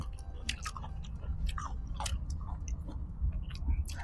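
Crunchy food being chewed in a Thai Isan home meal, with close, quiet, irregular crisp bites and munching repeating over a low background hum, no speech.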